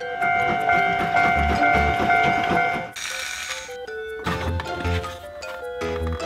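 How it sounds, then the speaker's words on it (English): A toy Thomas train plays loud electronic whistle toots and chugging sounds mixed with a bright tinny tune, close by. "Blue color Thomas train."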